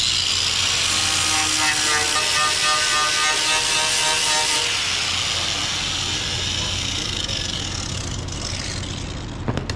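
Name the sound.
36 grit flap disc grinding rust off a 300ZX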